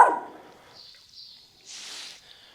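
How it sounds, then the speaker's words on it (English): A puppy gives a short bark during basic obedience training, then a faint whine and a second brief yelp, heard close in a quiet setting. "We're going to ignore the bark."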